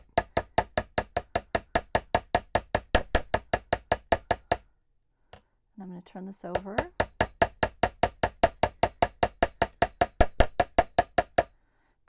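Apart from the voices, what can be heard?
hammering wire earrings flat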